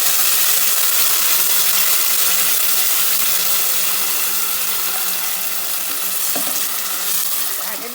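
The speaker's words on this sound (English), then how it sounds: "Now I'm going to add the water. This is the mixi water." Water is poured into a sizzling pan of soya and potato masala gravy with ground masala, fennel and curry leaves, giving a steady loud frying hiss that fades slightly toward the end.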